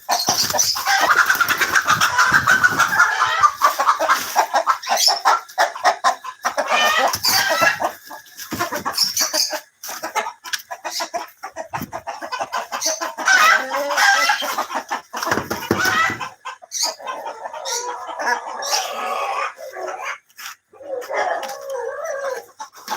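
Colombian Light Brahma hens and a rooster cluck and squawk continuously on a farm, a dense, busy chorus of fowl calls close by with no talking.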